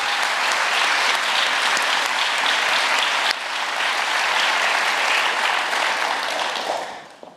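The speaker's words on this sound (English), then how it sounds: "Let's give her a round of applause." A large audience at a tech conference claps in a sustained, loud wash of applause that holds steady for several seconds and then tapers off at the end.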